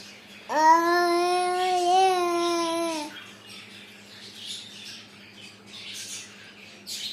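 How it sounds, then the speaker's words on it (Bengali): A pet bird lets out one loud, harsh, drawn-out squawk lasting about two and a half seconds, followed by quiet room noise. "পাখি থুয়ে আসো, খাঁচায় থুয়ে আসো যাও, খাঁচায় নিয়ে যাও"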